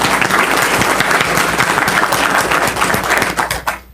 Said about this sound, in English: let's give them a round of applause for amazing job